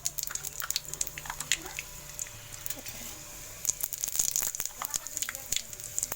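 Two dried red chillies drop into hot oil in a home kitchen and sizzle with a steady crackling hiss, punctuated by sharp pops and clinks of utensils, with a voice speaking intermittently over the frying.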